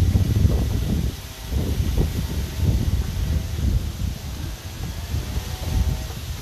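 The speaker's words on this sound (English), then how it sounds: "It's a little bit windy." Gusty wind buffets the outdoors near beehives, coming as uneven low rumbling bursts that surge and ease over several seconds with no voice present.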